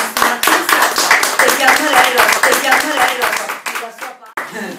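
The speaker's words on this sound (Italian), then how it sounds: "io a questo punto allora farei un altro applauso alla nostra grandissima artista" Audience applause for an artist at a book festival event, brisk dense clapping from a nearby crowd that thins and fades toward the end.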